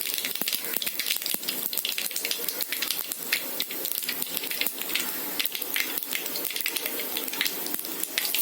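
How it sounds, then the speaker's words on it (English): Mustard and cumin seeds crackle and sizzle in hot ghee, a continuous hiss peppered with rapid sharp pops and spatters, close and moderately loud, with no voices. "Now we'll put the mustard seed in it."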